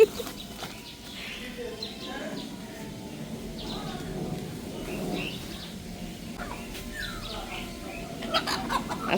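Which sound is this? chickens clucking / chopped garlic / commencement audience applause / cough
chickens clucking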